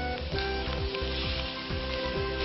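Shrimp and onion sizzling in a hot frying pan, a steady close crackle of frying with a few soft stirring scrapes and faint background hum, no voices.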